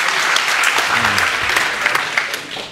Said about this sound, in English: With some warm applause, please.